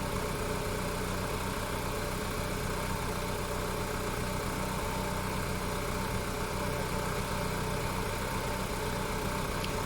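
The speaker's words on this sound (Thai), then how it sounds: "เสียงเครื่องยนต์ขนาดปิดแอร์นะคะ" A 1996 Mitsubishi Galant Ultima with about 293,879 km idles with the air conditioning switched off, giving a steady, even engine hum with no variation in pace. No one speaks over it.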